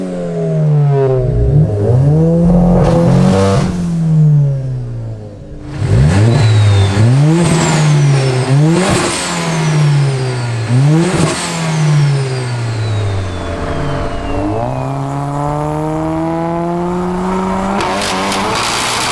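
A 900 bhp front-wheel-drive SEAT Leon Cupra accelerates hard on a road, its engine note climbing loud and close through repeated gear pulls, each rising rev sweep cut by a shift, with brief tire squeal.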